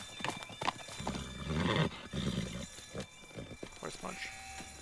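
A horse in the Teardown video game, from the Time Campers DLC, neighs and its hooves clip-clop in a few bursts, heard under frequent talking.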